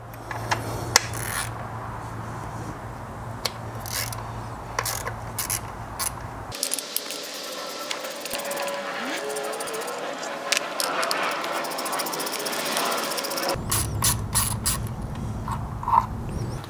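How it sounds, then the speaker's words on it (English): Metallic ratcheting and scraping of a wrench loosening bolts on a Jeep Wrangler 2.0 turbo's vacuum pump, with clicks and creaks, close by over a steady background hum. "loosen up the two bolts on either side of your vacuum pump"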